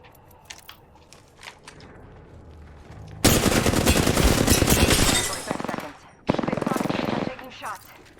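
Loud bursts of automatic gunfire in a battle royale video game, a long sustained volley followed by a shorter second burst, standing out above quieter game sounds.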